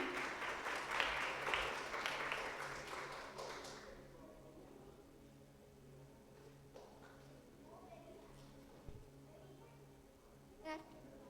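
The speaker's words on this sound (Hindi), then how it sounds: "आप जोरदार तालियां बजा सकते हैं बच्चों के लिए।" Applause for children at a church Children's Sunday service, a burst of clapping that fades after about four seconds, followed by quieter room sounds and a few faint taps.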